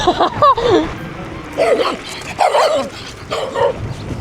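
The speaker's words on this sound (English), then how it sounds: "they just got attacked by a little dog" A little dog barks repeatedly in sharp, high yips, close and loud in several short bursts with brief pauses between, outdoors around parked modded cars.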